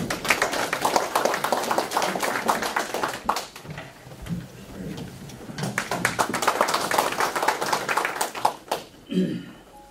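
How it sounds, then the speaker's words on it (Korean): An audience at a formal commemorative event gives dense, sustained applause to welcome a speaker. The clapping fades briefly, swells again, then dies away, and some talk is heard near the end. "박수로 환영해 주시기"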